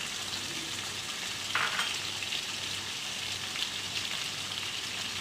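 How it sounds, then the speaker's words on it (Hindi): Chicken frying in homemade biryani masala and yogurt sizzles steadily in the pan, a continuous crackling hiss with occasional stirring scrapes, close and moderately quiet, no talk. "अब हम चिकन को अच्छी तरह से इन मसालों में भून लेंगे"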